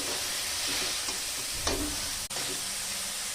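Cabbage frying in a pan over low-medium heat, a continuous close hiss and sizzle with a few stirring scrapes and a brief clank, no voices.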